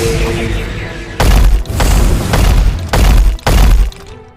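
Heavy spiritual-energy explosions from an animated fantasy series blast against a giant blood rat, as four or five loud booming bursts with crashing, shattering tails arrive in quick succession, without any voices.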